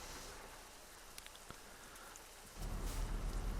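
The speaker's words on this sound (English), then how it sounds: "Still raining." Rain in the Japan Truck Simulator video game, heard as a soft, steady patter of drops that swells noticeably louder partway through, with no voices.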